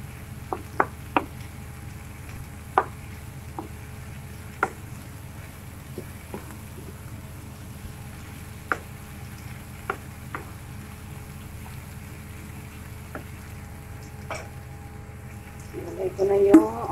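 Onion frying in oil left over from frying chicken for chicken kasadyah makes a low, steady sizzle with scattered sharp pops and clicks, and a louder stirring clatter near the end.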